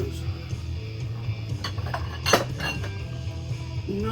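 Dishes and a bowl clink and rattle in a kitchen cupboard during a search for a Taiwanese bowl, a cluster of sharp knocks near the middle over a low steady hum.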